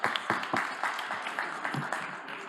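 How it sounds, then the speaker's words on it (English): An audience at an urban mobility conference in a hall gives brief, moderately close applause, individual claps audible in a loose rhythm that fades over a couple of seconds. "Give her a round of applause."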